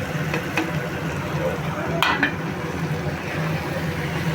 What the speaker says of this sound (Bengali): এবারে আমি মশলাটা আস্তে আস্তে সব মশলাগুলো দিলাম